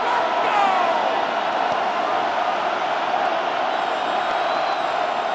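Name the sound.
crowd cheering in stadium, from video game Madden NFL 26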